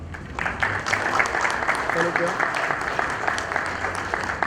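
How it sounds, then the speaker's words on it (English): Applause from a conference audience after a fireside chat panel, steady clapping throughout with a voice talking briefly over it. "Come on everybody, let's have a round of applause, a huge round of"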